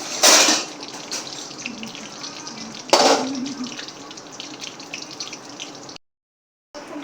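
Mustard seeds crackle and sizzle in hot oil while tempering for handvo, with a steady frying hiss and two sharper popping bursts near the start and about three seconds in, then a brief cut to silence.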